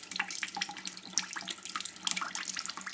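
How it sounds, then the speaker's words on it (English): Water trickling and splashing through a home brew all-grain mash during sparging from a Fulstow kit, a soft, close, continuous pour broken by small drips and gurgles, fairly quiet and without any talk. "Just give it a bit more, let the water through."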